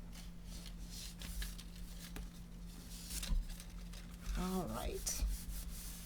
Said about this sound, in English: as I'm pulling, I'm going to burnish down this piece here